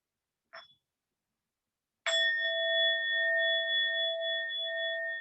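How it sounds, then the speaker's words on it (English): A meditation bell is struck once and rings alone with a clear, sustained tone that fades slowly over several seconds, after a faint brief tap before it. "with the sound of the bell,"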